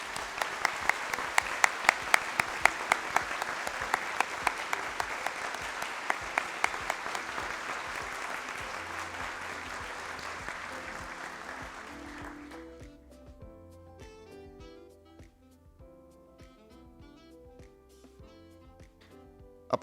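A seated crowd at a PUC-Campinas university leadership inauguration ceremony claps steadily and loudly for about twelve seconds, then the applause fades away into a few scattered claps and quiet background music.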